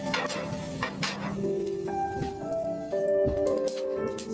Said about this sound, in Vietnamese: Ống kính lia đến cái chảo kêu y xèo xèo nghe mà đã tai.